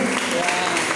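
A church congregation bursts into brief, dense applause, a short burst of clapping filling the room.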